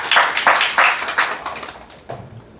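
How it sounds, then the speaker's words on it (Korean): Applause from a seminar audience of insurance planners, a few short bursts of clapping that fade over a couple of seconds, with a brief murmur near the end. "여러분 박수 한번 주세요"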